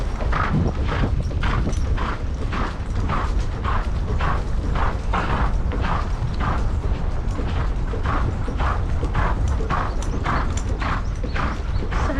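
Horse hooves clip-clop in a steady walking rhythm, close and clear over a constant rumbling background, with no talk.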